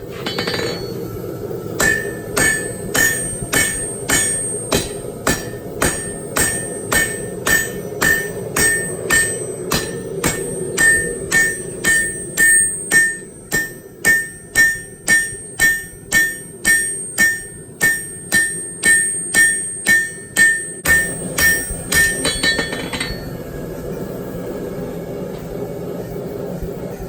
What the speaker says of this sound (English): try to widen it using the cross peen.